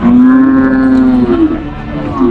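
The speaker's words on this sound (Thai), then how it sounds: "วัวเยอะจริงๆครับผม" Cattle at a crowded market of more than a thousand head moo loudly and close by, one long drawn-out low call sliding into further overlapping moos, with no talk.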